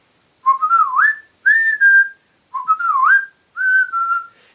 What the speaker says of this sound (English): So I decided I would whistle the